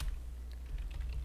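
Light computer keyboard typing in Illustrator, a few soft, quick key taps close by over a low steady hum.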